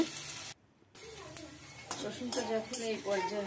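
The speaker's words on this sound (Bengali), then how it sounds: "রসুনটা আমি একটু ভালো করেই ভেজে নেব, লাল করে নেব।" Chopped garlic frying in a pan, a moderate sizzle broken by a brief quiet gap, then resuming with utensil scrapes and clinks against the pan and a soft voice.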